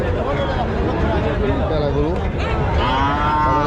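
Cattle low and moo amid a busy livestock market in Panchbibi, Bangladesh, with some animals showing lumpy skin disease; several overlapping moos rise over constant crowd chatter and talk.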